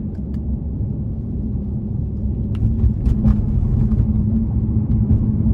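A 2018 Mercedes-AMG C63 engine gives a deep, steady rumble that swells slightly louder midway, with a few brief sharper bursts, heard close and alone.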